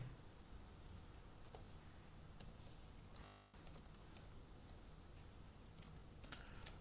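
Programming code typed on a computer keyboard, with scattered light key clicks in irregular bursts over a faint steady hiss and one brief dropout, quiet and close.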